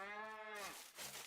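In the Scrap Mechanic survival game, a farm cow lets out a single drawn-out moo with a falling tail, fairly close and clear, followed by a short grunt.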